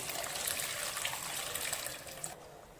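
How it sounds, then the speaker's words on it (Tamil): Water splashes and trickles steadily into a cooking pot of brinjal curry for a couple of seconds, then stops, leaving quiet. "குழம்புக்கு தேவையான அளவு தண்ணி ஊற்றிக்கோங்க"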